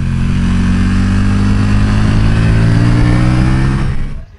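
KTM 1290 Duke motorcycle ridden hard on the Bonanza race circuit in Thailand, its big engine droning loud and steady with rich low rumble throughout, then cutting away abruptly at the end.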